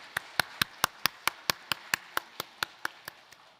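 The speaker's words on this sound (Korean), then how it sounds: "영광의 박수 올려드리겠습니다" A church congregation at a Sunday worship service claps in unison, about sixteen crisp, evenly spaced claps in a steady rhythm that fades slightly toward the end.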